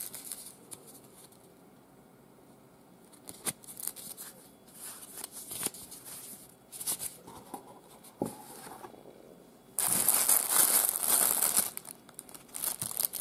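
A plastic bag from the packaging of a Casio EFV-100 watch crinkles and rustles up close, with soft intermittent handling sounds at first and a louder, sustained burst of crinkling near the end.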